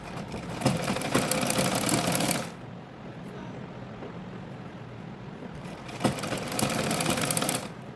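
A sewing machine stitches blouse fabric in two loud runs of fast, steady needle clatter, the first lasting about two seconds, then a quieter pause with room noise before the machine starts again.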